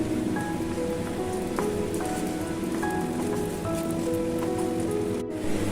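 Cashews and raisins fry in a little white oil, making a steady, dense crackle and sizzle close up that continues evenly throughout without talk.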